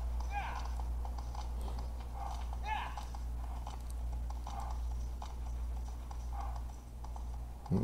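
Horse hooves galloping in Shadow of the Colossus played on a PS2 emulator, a steady rhythmic clip-clop repeating through the clip beneath a constant low hum.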